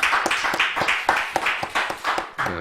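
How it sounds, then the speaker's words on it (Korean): A church congregation claps during a Sunday afternoon worship service, giving a round of uneven, fairly close hand claps for about three seconds, with no talking over it. "하나님께 영광의 박수 올려드리겠습니다."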